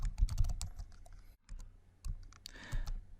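Computer keyboard keys clatter in quick close clicks while code is typed into a Jupyter notebook, a short pause splitting two runs of keystrokes.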